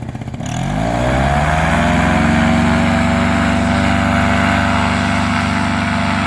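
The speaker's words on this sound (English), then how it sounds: "Give it a little more throttle." A small, lawn-mower-like engine on a light vehicle being taxied gets more throttle and rises quickly from a rough idle into a loud, steady, buzzing high rev that stays close and continuous.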